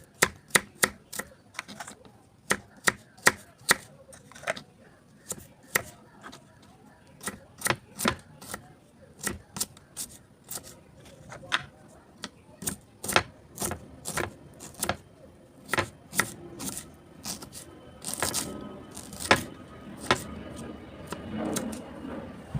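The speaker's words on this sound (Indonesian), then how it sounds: "dipotong kecil-kecil supaya nanti pada saat mesangrai aroma wangi bumbunya bisa keluar" Knife chopping spices into small pieces on a board, a long series of sharp, fairly quiet taps in irregular bursts, speeding into a faster flurry near the end.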